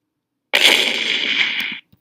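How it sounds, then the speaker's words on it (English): A single loud synthetic blast bursts out, holds as a bright whooshing roar for about a second, then cuts off, followed by a tiny click. "This is the sound of the cannon firing a missile."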